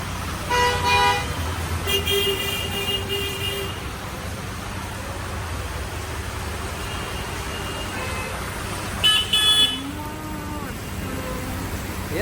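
Car horns honk in a rainy traffic jam, with several loud toots in bursts near the start and again later over a constant roadway rumble, while voices talk nearby.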